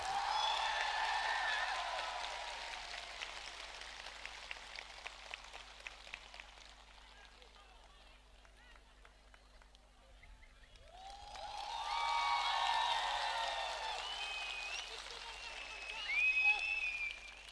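A crowd at a Tipra Motha rally in Ambassa applauds for party president Vijay Kumar Rankhal. Two bursts of rapid, pattering clapping are separated by a quieter lull, with voices calling over the noise.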